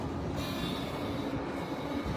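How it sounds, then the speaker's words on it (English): A continuous loud rumble of a train rolling along the tracks at the main train station in Vienna, Austria, with a thin metallic squeal riding on top. "So this is the train station"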